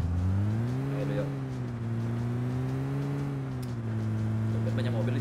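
Engine drone of cars in the video game PUBG Mobile, a steady humming tone that rises and shifts pitch as they accelerate, continuous and fairly close.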